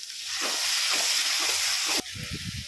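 Tomato and ground coriander masala sautés for mutton curry with a loud, continuous frying hiss, then sharper stirring scrapes near the end, and no talking.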